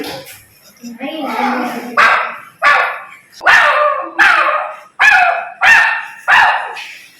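A schoolboy in a classroom mimicry game imitates a dog barking with his voice, giving about six loud, evenly spaced barks after a brief spoken lead-in.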